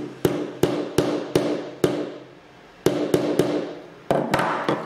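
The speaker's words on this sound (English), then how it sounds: "I was not able to drive a nail through the piece of wood" A hammer strikes a nail held against a piece of wood, two runs of sharp ringing blows at a steady rhythm with short pauses between, loud and close, with no talking.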